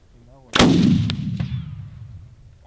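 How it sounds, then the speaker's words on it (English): A single loud rifle shot cracks close by while sighting in at a paper target on a caribou hunt, followed by a long rolling echo that fades, with a fainter second report soon after. "Getting a little sight in with the rifles."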